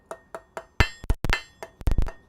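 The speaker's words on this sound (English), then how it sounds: "you hear me hitting the anvil a lot" A hammer strikes hot steel on an anvil in a smithy, about a dozen sharp metallic blows in an uneven rhythm, the early taps lighter and the later ones heavier and ringing, close and alone.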